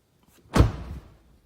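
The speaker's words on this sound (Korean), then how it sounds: "조금 이렇게 텅 하고 좀 착 하고 닫히는 느낌이 나거든요" A Volkswagen Jetta car door swings shut with a single solid, deep thud up close, followed by a brief dull rattle that fades within half a second, then quiet.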